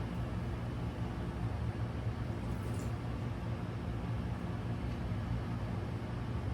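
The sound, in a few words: air conditioner running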